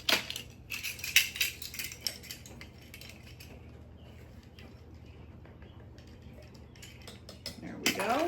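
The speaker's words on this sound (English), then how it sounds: "You're going to sift that together with a 1/2 teaspoon of ground cinnamon." Powdered sugar sifted together with ground cinnamon through a sieve, a soft continuous rustling and scratchy tapping, quiet and close, with brief louder rattles at the start and end.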